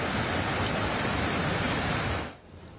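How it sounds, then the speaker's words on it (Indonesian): Floodwater of a widening, flood-swollen river rushing in a steady, dense roar that fills the whole stretch, close and loud, then drops away abruptly at the very end; no voices. "Air sungai semakin melebar dan meluas."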